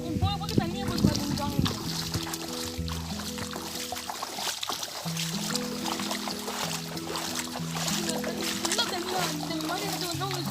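Feet splash and slosh through rain-filled water standing in a flooded paddy field, soft irregular splatters close by, with a person talking over it and music playing underneath.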